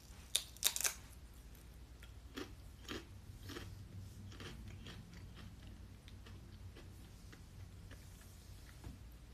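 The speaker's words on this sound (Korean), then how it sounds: "과자 먹는 소리예요? 과자 먹는 소리." Snacks are eaten close to a microphone, with sharp crunchy bites near the start, then softer scattered chewing crunches over quiet background noise, with no voices.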